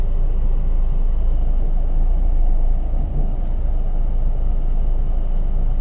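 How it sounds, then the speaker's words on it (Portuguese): A VW Jetta 2.0 TSI turbo with a DSG gearbox accelerates, heard from inside the cabin as a loud, steady engine and road rumble. The drone is continuous and even, and no one speaks. "nessa aceleradinha sente que o carro já tem muito motor"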